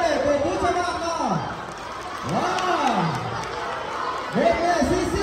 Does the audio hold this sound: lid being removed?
no